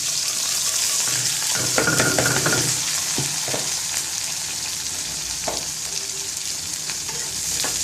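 Onion, garlic and green chili sizzle and fry in hot oil for a dried-fish bhuna with jackfruit seeds, a steady close crackle with stirring scrapes and a few clinks, no talking.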